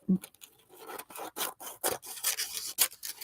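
Scissors snip and trim the edges of a handmade paper ephemera folder, a close series of short crisp cuts and rasping rubs in an uneven rhythm, with no voices.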